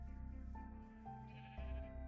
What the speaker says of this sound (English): So we actually need to get the 2 brown sheep in there again.